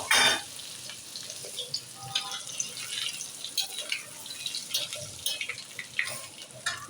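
Shami kababs fry in a pan with a steady crackling sizzle and scattered sharp pops that fade slightly after a louder start, with no voice.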